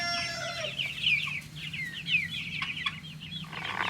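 Chickens cluck and chatter steadily in an outdoor farmyard, several birds close by with overlapping calls and occasional sharper squawks over a low background hum.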